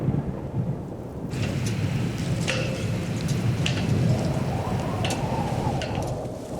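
Steady heavy rain pours at sea under an overcast sky while several sharp cracks and rumbles of thunder break through, with no voices heard.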